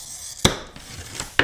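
A glass cutter scores a narrow piece of stained glass in one sharp, close scratch, followed by a quieter stretch and a second crisp tick at the end.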